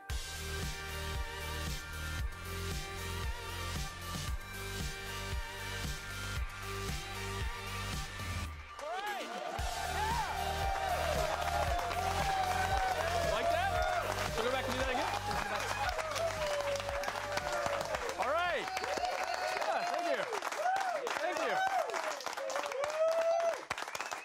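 Studio audience applause and cheering at a live golf talk show, rising after a musical intro into a sustained, loud wash of clapping with whoops and shouts over lingering music.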